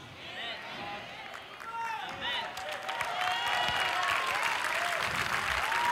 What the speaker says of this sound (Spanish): Un aplauso más grande los de atrás.